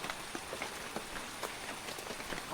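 Rain falls steadily onto surfaces, a dense even hiss with scattered louder drops pattering close by, and no voices.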